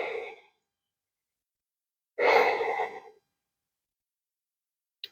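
Deep, slow breaths during a held power yoga pose: a short exhale tail, a pause of silence, then one long full breath of about a second, close and clear, with no talking.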